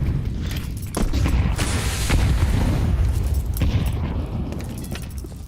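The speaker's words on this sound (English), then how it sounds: "Simple's nade does chip onto Sadzin. Some well-placed HEs from all of BCG" HE grenades go off during a professional Counter-Strike match, with several booming explosions and sharp bursts over a continuous dense game soundscape, and no voices.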